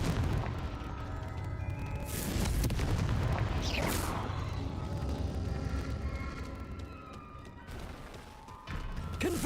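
Confringo fire-blast spell from Hogwarts Legacy, a video game, bursting into a dense, sustained crash of explosions and crackling debris that runs across the whole stretch, loud and close, with a brief dip near the end before another surge.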